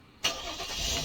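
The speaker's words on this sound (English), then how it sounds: "Engine sounds are really nothing to behold." A Ford Explorer engine starts up in the Flashing Lights game, an abrupt ignition burst followed by a steady, fairly loud mid-pitched hum that holds on without any talk.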